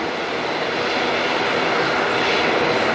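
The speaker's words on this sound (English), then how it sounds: "that's definitely a dash, an ATR we're hearing" An ATR turboprop regional aircraft at Auckland Airport gives off a loud, steady, broadband engine roar that swells slightly over a few seconds and heard from a distance across the apron.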